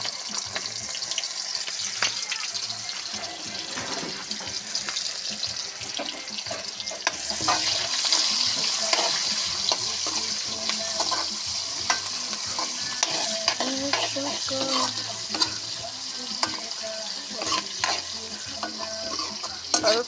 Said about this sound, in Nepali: हल्का येलो सम्म भुट्नुपर्छ प्याज